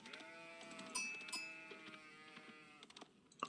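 Sheep bleat several times in the video game Age of Empires 4 over a busy backdrop, with a couple of sharper chime-like tones cutting in.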